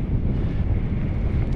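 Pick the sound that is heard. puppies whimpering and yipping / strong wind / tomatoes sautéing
strong wind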